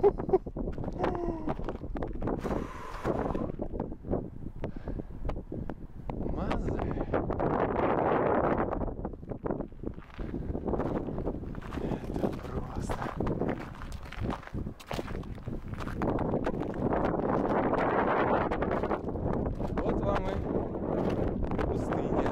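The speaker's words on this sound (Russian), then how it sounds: "Такой ветер мощный, я боюсь, у вас там звук уже просто" Heavy desert wind in Israel buffets the microphone in rolling gusts, with footsteps and rustling underneath and occasional voices.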